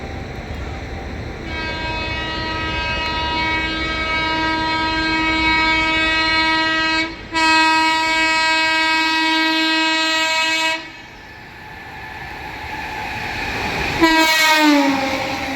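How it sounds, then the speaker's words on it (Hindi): Madhya Pradesh Sampark Kranti Express passing Banmor station as it overtakes a halted special train, its loud sustained horn blaring for several seconds, breaking briefly, then resuming before rumbling wheels and a short final horn blast. "सामने से आ रही है मध्य प्रदेश संपर्क क्रांति एक्सप्रेस ओवरटेक करने।"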